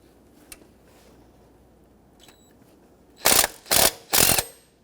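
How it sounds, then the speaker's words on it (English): A 12mm socket ratchet loosening the lower alternator bracket pivot bolt on a 2005-2021 Nissan Frontier 4.0L V6: faint ticks at first, then three loud, close bursts of rapid clicking. "With a 12mm socket, I'm going to loosen up that pivot point on that lower bracket so I can easily center that."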